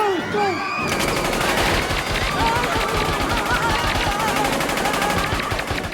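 Machine gun fire from an Austin Powers film, a loud sustained burst of rapid automatic shots running continuously for several seconds.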